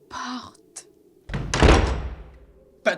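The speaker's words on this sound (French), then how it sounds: "Il faut claquer la porte." A door slams shut with a heavy thunk that booms and then dies away, after a short stretch of earlier movement noises, with a sharp knock-like hit at the end.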